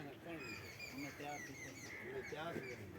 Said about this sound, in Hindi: ये मुर्गियां भी हैं।